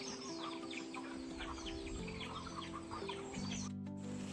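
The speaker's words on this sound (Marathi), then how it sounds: "कोंबड्या बघा किती जमा झाल्यात." Several chickens cluck and murmur close by in an overlapping flock gathered to be fed bran in a Konkan village, with a soft rustle of wings and no speech.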